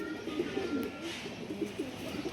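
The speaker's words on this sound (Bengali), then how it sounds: "এই যে একটা নর কবুতর, সুন্দর।" A male racing pigeon of a tournament-winning line coos in a steady series of soft, low repeated calls, close and moderately loud over faint background noise.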